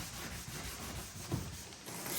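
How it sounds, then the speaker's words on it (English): Sandpaper is rubbed across a car headlight lens in a quiet, uneven scratching rasp with a slightly louder stroke partway through. "keep sanding it over."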